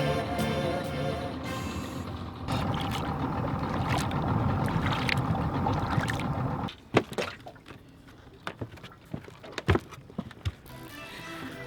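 A boat engine drones steadily for several seconds heading out on a Florida swamp, then cuts lower, leaving sparse knocks and splashes against a quieter watery background.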